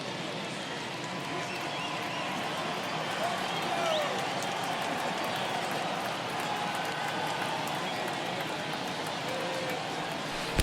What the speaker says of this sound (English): I can hear the crowd murmuring now, wondering if he hit him on purpose